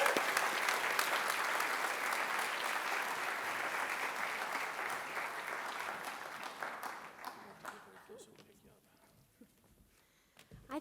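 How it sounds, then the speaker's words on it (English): An audience at a South Kitsap High School choir concert, One Night on Broadway, claps in a full, sustained round of applause that thins out and fades near the end. "them a round of applause"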